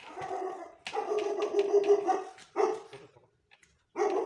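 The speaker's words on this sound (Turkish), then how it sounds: "Harbiden köpek var." A dog barks repeatedly in rough, throaty bursts nearby, with a whimpering growl between, a brief quiet pause, then another bark.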